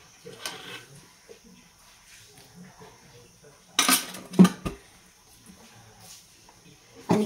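A metal kadhai set down on a gas stove in a home kitchen gives a couple of sharp clanks near the middle, among lighter clinks and low background murmur.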